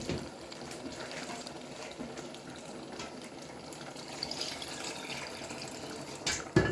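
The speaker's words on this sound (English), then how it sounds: "So now I'm adding the water" Meat stock water being poured into a simmering tomato stew, a continuous soft splashing trickle with gentle bubbling, faint and close, ending in a brief clatter.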